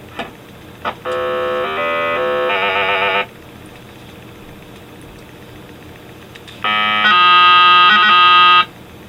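Atari 2600 video game timer-expiry alarm: two loud, steady electronic buzzing tones, each lasting a couple of seconds with a layered stepped pitch, separated by a quiet gap, with no talk.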